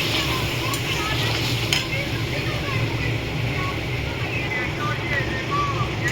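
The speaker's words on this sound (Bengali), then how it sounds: "আমি ভালো করে কষবো জিনিসটাকে" Egg curry masala is stir-fried in a pan with a steady, close sizzle and the scrape of stirring running continuously throughout.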